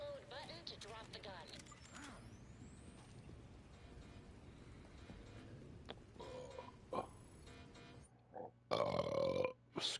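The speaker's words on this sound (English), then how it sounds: "I'm just like burping today." A person burps during a video game session, a loud, brief eructation near the end, following a stretch of game sound effects and voices.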